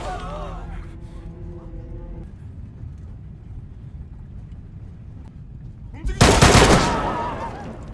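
A burst of film gunfire as a man is shot repeatedly: a sudden loud, sharp crack of shots late in the scene that decays, after a quieter stretch with a tonal musical layer.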